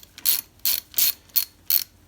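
Hex key ratcheting out 5mm bolts on a bike brake caliper on a Rock Shox Dart fork, five crisp, evenly spaced clicking bursts, close and fairly loud.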